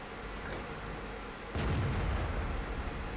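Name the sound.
tank gun shots in a tank video game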